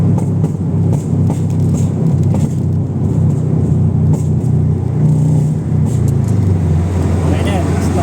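A tuned Ford Fiesta Mk7 with UEL headers revs up and holds high near 4,000 RPM, a steady loud engine drone with rumbling exhaust throughout, while someone speaks over it.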